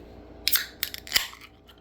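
Bottle cap cracked and pried off a bottle of Epic Brewing Big Bad Baptist S'mores imperial stout, 12% ABV: a few short, sharp clicks and a crisp pop close up, with no voices.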